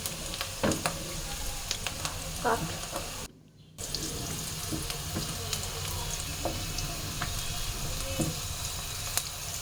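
Onions frying in a generous amount of oil for noodles give off a steady close sizzle with scattered crackles and brief clinks, broken by a short drop to near silence partway through.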